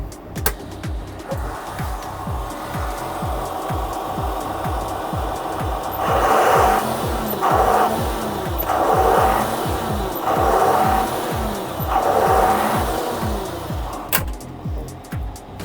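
A John Deere 6620 tractor's 125 hp diesel engine chugs steadily with a regular low pulse, heard at the exhaust pipe; midway a series of about five louder bursts rises and falls as the exhaust note swells.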